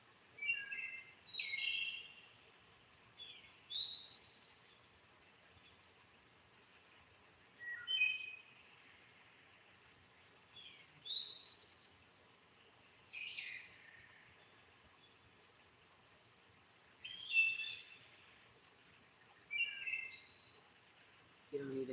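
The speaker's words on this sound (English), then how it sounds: "You don't even hear as many birds as normal right now." Birds chirp in the trees around a farm, with short bursts of calls returning every few seconds, moderately faint and distant against a quiet background.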